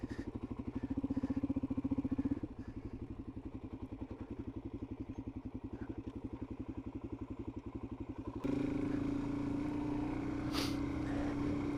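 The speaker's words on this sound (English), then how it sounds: "You can feel the bike sliding around now." Motorcycle riding on a sandy track, its engine pulsing steadily and close. The pitch shifts partway through and the engine note rises louder.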